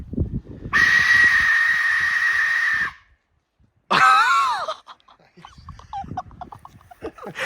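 Blown hard outdoors over a field, an Aztec death whistle gives two shrill, scream-like blasts: a long, steady, piercing wail, a second of silence, then a shorter warbling shriek that trails off into faint rustling.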